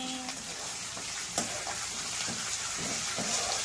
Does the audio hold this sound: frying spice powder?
yes